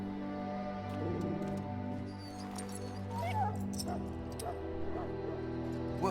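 A dog whimpers and yips in the video game Dragon Age: Origins, high plaintive cries layered over a steady droning game soundtrack.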